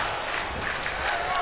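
An arena crowd in the WWE 2K25 wrestling game chants and roars together before a Monday Night Raw match, a dense, continuous wall of many voices heard at a distance.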